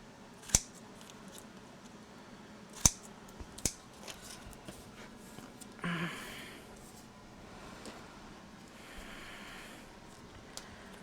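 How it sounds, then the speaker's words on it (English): Scissors snip through paper to round the corners of a scrapbook album, a few sharp isolated cuts spaced apart, followed by a longer soft rustling of paper handling at close range. "We're going to cut right through the center of the X, just like that."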